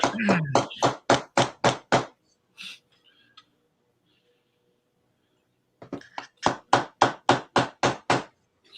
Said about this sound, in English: Do you want to make sure the end of your ruler ain't square anymore? Use it as a hammer.